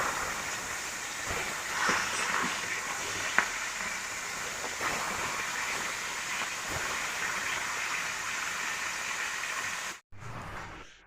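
Tilapia fillets frying in hot oil after being flipped to the other side, a steady, moderate sizzle and crackle running continuously before cutting off abruptly.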